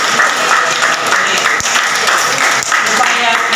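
A crowd claps in a loud, steady wash of applause, with voices mixing in underneath.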